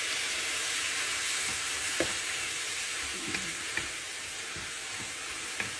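Coconut milk goes into flat beans frying in a pan for a Jaffna-style curry, giving a steady loud sizzle with a few soft stirring scrapes and taps of the spoon.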